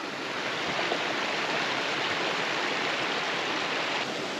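A mountain creek flows in an Alaskan backcountry drainage, a steady broadband rush of water, moderately near and continuous with no voices.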